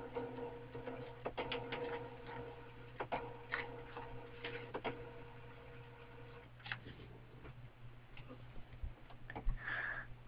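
A home printer printing tickets makes a rhythmic mechanical ticking and whirring, with regular clicks of the paper feed over a low steady hum, close by and fairly quiet.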